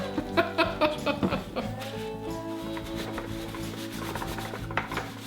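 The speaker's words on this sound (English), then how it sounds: "Little cleanup here with isopropyl alcohol" Cleaning smeared epoxy off a bucket handle with isopropyl alcohol, close rubbing and scrubbing strokes with a few quick taps at first, then a steadier wiping friction under a humming background.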